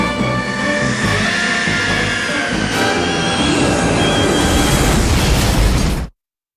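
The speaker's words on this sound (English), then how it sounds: "Quagmire's small plane with Peter and Joe aboard crashes nose first into the Canadian wilderness" A cartoon small plane crashes nose first into the Canadian wilderness in Family Guy, a loud sustained roaring explosion and rumble lasting several seconds before cutting off abruptly.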